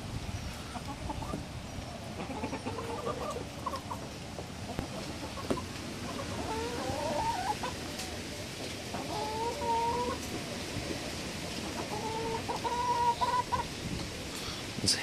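A backyard flock of chickens crowds around pieces of pork, giving soft, scattered clucks and occasional higher squawks over a low, continuous outdoor background.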